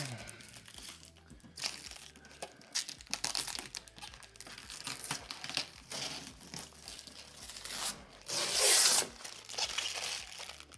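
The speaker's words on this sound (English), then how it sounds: "Take off some of this plastic right here." Plastic wrapping crinkles and tears as it is peeled off an Aiper Scuba robotic pool cleaner, a run of close, irregular crackling rustles that ends in one louder rip near the end.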